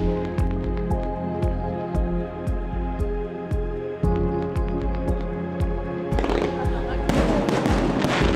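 Fireworks going off on the night of July 14 in Corsica, heard from a sailboat: repeated sharp bangs and crackles in a steady rhythm, some distant and some nearer, building into a dense crackling burst toward the end.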